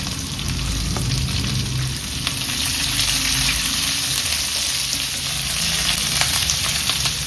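Small chopped onions and chili fry in a pan for egg chilli, giving a dense, steady sizzle sprinkled with sharp crackles and pops throughout, close and fairly loud, without talk.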